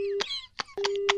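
Phone line tones after a call is hung up on an FM radio show: a steady beep sounds, cuts out amid short clicks, then the same tone returns and holds, close and clear.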